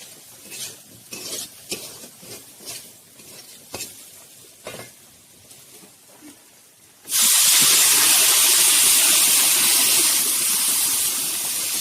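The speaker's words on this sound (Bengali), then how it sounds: "মাছ কাঁকড়া রান্না হচ্ছে" Fish and crab cook in a pot at a riverside camp by the Matla river in the Sundarbans. A few seconds of scattered stirring clinks give way to a loud, continuous hissing sizzle.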